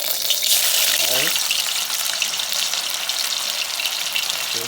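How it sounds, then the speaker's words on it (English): Chicken frying in a pot for Jamaican stew chicken, giving a loud, close, continuous sizzle with a few brief stirring scrapes mixed in. "So I'm going to fry the meat for a while first."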